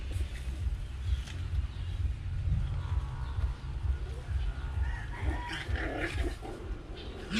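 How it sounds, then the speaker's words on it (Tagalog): Puppies squabble on a floor, low rumbling growls and snarls pulsing continuously in the foreground with occasional sharper yips, while someone talks and laughs nearby. "mga tuta ko sa lapag nagkakagalit pa eh"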